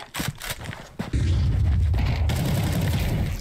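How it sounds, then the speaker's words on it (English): A flashbang grenade bursting in the shooter game Counter-Strike, a sudden loud bang followed by a dense sustained roar and ringing, after a few quieter thumps and footsteps. "Flashbang."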